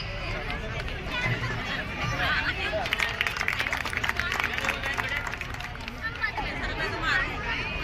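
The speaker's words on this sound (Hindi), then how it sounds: "जोरदार तालियां हो जाए आयशा के लिए" An audience at a children's school play competition claps for a young performer, a steady patter of applause mixed with crowd chatter and voices throughout.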